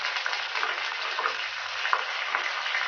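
Dried red chillies and curry leaves crackle in hot oil for a tempering, making a dense, steady hiss of sizzling with small pops scattered through it.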